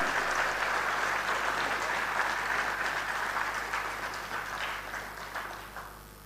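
An audience claps at a company's first anniversary event in Patna, a sustained wash of applause that gradually thins and fades toward the end.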